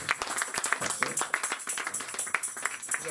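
Congregation at Agapao Tabernacle church applauding together, a dense, steady run of claps filling the space, with voices mixed in beneath.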